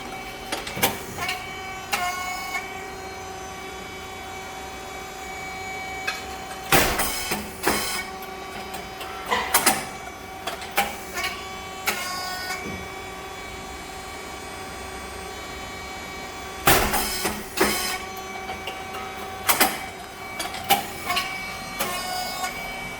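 An SYP4509 rice cake machine with coated moulds and a hydraulic system runs through its cycle, with a steady mechanical drone broken by repeated loud bursts and clatters.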